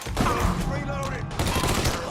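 Dense gunfire crackles in the video game Mafia 3, a steady rolling volley of shots heard at moderate loudness with voices talking over the noise.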